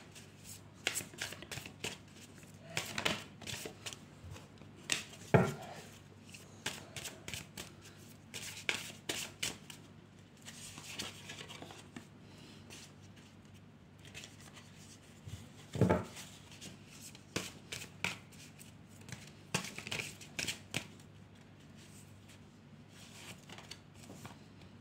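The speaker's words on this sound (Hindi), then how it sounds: "हम कुछ कार्ड से और निकालते हैं, आपकी एनर्जी किससे ज़्यादा कनेक्ट है," Cards are shuffled and drawn for a tarot-style card reading: repeated close, crisp riffling bursts and soft slaps in uneven clusters, with brief pauses, no speech.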